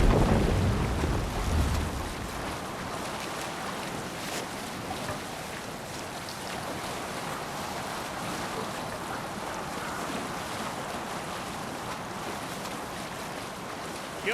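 A boat sails on the open sea in Assassin's Creed Valhalla, with a steady broad wash of waves and wind that holds at an even level for the whole stretch after a louder rumble at the start.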